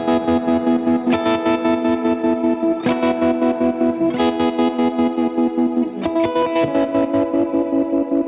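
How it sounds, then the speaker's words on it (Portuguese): Electric guitar through a tremolo effect pedal, with Fender and Vox amps, playing sustained chords that pulse in a fast regular rhythm, loud and alone with several chord changes. "E por fim, eu uso um trêmulo."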